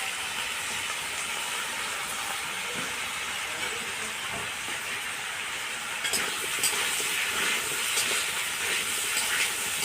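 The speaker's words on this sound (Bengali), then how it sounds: "এবার আলু পেঁয়াজ একসঙ্গে ভেজে নিতে হবে আমাকে।" Potato and onion frying together in hot oil, a steady broad sizzle and hiss close up that grows slightly louder and crackles more toward the end, with no talk.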